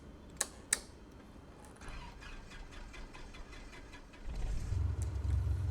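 A piston aircraft engine in Microsoft Flight Simulator 2024 starts after a few clicks and sharp switch taps, a low rumbling idle rising near the end, with keyboard-like tapping along the way.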